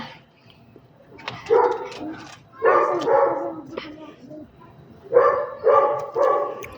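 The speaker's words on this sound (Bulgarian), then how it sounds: "Гледай две кучета." Two dogs bark in repeated loud bursts of three to four barks each, fairly close, with someone speaking in between.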